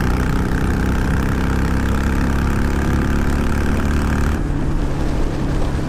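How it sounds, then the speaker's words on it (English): A 2019 Harley-Davidson Iron 883 motorcycle at full throttle around 70 mph, a loud continuous engine drone mixed with heavy wind rush, with the high hiss dropping away near the end. "I'm going to give it full throttle and see what she does."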